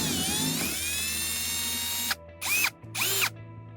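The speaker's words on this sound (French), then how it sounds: "Je passe ma vis dedans. Et après, je visse ma vis." Cordless drill driving a screw through a rubber washer into a sheet on a DIY log shelter: a sustained whirring run followed by two short bursts as the screw seats, close and steady, with no talking.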